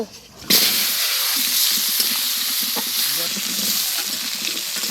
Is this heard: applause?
no